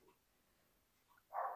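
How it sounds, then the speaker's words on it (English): A dog barks once briefly in the background near the end, faint and distant, after a quiet indoor stretch. "that's Dobby barking in the background"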